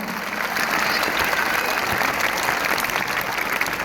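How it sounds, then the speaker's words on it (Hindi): Schoolchildren applaud steadily at an Indian Independence Day school gathering, a dense, even clatter of many hands sustained throughout at close range with no talk. "ताली नहीं बजाओगे?"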